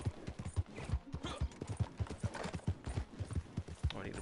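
Horse hooves clip-clop at a steady walking rhythm in Red Dead Redemption 2, close and fairly quiet, with faint game ambience beneath.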